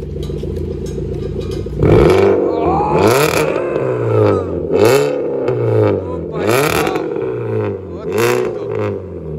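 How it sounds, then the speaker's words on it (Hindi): A car fitted with a valvetronic full-system exhaust revs in a series of sharp throttle blips, each rising and falling with a crackling rasp, close and loud in a silencer shop garage. "एक बारी रेव हो जाए थोड़ा सा।"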